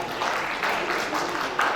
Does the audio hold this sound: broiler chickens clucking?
no